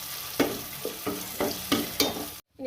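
Tomatoes, curry leaves and crushed pepper sizzle in a pan for rasam, with a soft steady frying hiss broken by about five stirring scrapes and clatters. It cuts off abruptly near the end.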